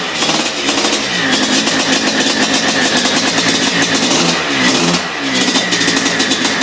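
A 2009–2014 Maico 700 with a liquid-cooled 684cc single-cylinder two-stroke engine revs loudly up close, a raspy crackling drone that swells in repeated throttle bursts with brief dips between them.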